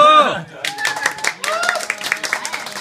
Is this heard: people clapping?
yes